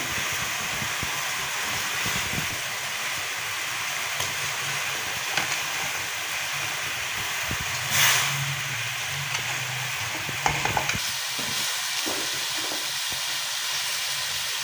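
A pot of salted water with cauliflower florets boils steadily, producing a constant broadband hiss and bubbling rumble with a few brief louder surges.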